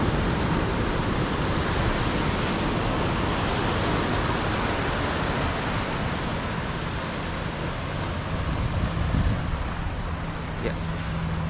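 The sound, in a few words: Padang beach ambience in the morning, waves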